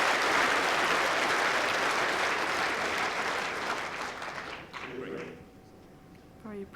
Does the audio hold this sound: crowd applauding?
yes